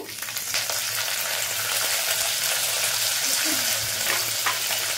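Mung dal and curry leaves frying in a hot pan give a steady, close sizzle with constant crackle and the occasional scrape of stirring throughout.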